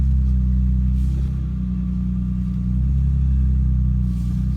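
A modern car engine runs at a steady, smooth idle nearby, a continuous low hum with no voices.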